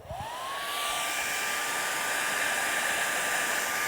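A hair dryer blows on wet paint with a loud, steady close-up roar and a rising whine as the motor spins up, with no talking.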